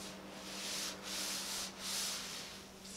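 Meguiar's professional detailing clay rubbed back and forth over car paint outdoors in freezing weather, a steady close hissing friction in repeated strokes with short pauses between passes, no voices.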